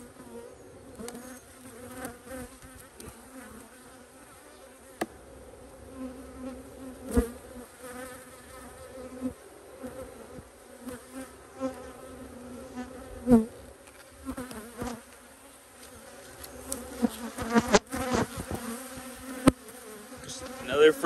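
Honey bees hover and drone around their new hive entrance during an inspection, a steady insect buzz running throughout with intermittent louder bursts, knocks and handling noises from nearby.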